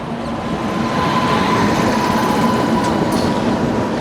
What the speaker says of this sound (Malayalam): പാറ്റ്ലിപുത്ര SF express, SMT Bengaluru Pataliputra.